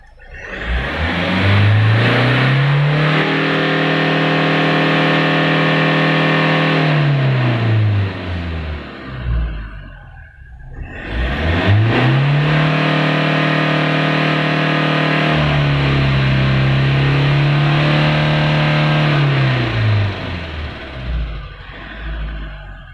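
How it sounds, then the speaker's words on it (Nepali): A pickup engine with a P0234 overboost fault and warning light revs hard twice as the accelerator is pressed, each rise holding a loud steady pitch for several seconds before dropping back, with no talk. "एकचोटि हामी एक्सिलेटर प्रेस गरेर हेर्छौँ है।"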